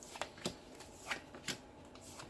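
Tarot cards being shuffled by hand, quiet crisp riffles and slaps in about six short bursts, close up and otherwise silent.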